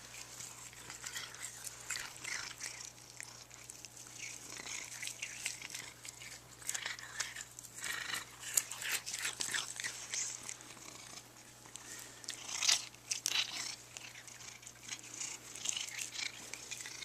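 Cats chewing and biting on grass indoors, faint irregular crunching and tearing sounds in short bursts, close but quiet, with no talk.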